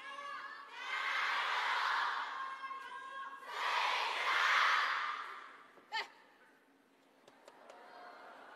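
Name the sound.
crowd cheering at a table tennis match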